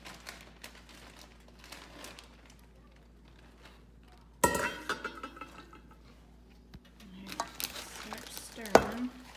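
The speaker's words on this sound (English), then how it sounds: "Stirring." Cheese and hash browns being stirred for a waffle-iron egg dish, heard as intermittent scraping and crinkling bursts, loudest around the middle and near the end, over a quiet kitchen background.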